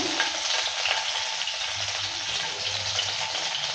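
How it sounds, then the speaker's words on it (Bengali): Chopped green chillies sizzle and crackle in hot oil with toasted black cumin seeds, a steady close hiss broken by light scrapes of a spatula stirring the pan, with no talk. "কাঁচা লঙ্কাটা দেওয়ার পর নেড়ে চেড়ে নিচ্ছে।"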